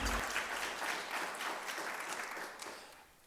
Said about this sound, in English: Yes, clap for that, please.